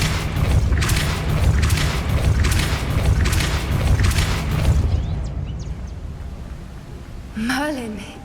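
A Depulso force-push spell cast in Hogwarts Legacy gives a loud, rumbling magical boom that holds for several seconds and then fades, followed by a short rising-falling voice exclamation near the end.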